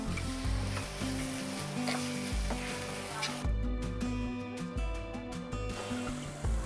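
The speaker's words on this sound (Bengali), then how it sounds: "দেখুন আরও 1 মিনিটের মতন এটাকে কষিয়ে নিয়েছি।" Vegetarian keema frying and being stirred in a pan, a continuous sizzle with scraping stirring strokes and a low rhythmic background hum, close and steady.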